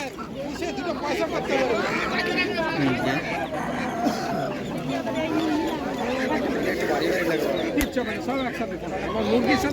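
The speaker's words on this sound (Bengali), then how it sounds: "এইদিকে দেখো বন্ধুরা চায়না হাঁস বিক্রি হচ্ছে" Ducks and other poultry at a busy market, a steady crowd din of chatter and bird calls with quacking and honking mixed into loud continuous background talk.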